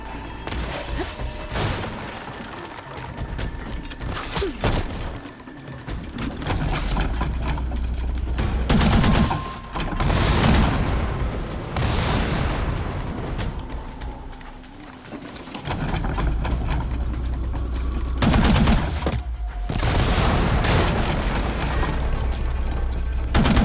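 Gunfire and heavy impacts in the PS5 game Horizon Forbidden West, sustained loud bursts of shots and booms with low thuds, rising and falling across the scene, no speech.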